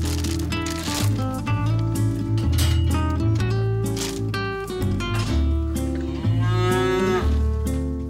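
Cattle on a young farmer's farm moo in long, loud, overlapping calls that continue for several seconds, close by with no voices.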